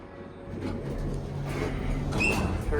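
A Schindler hydraulic elevator door at a Macy's department store sliding shut, a continuous rumbling slide with a faint squeal near the end, heard close inside the car against store background noise.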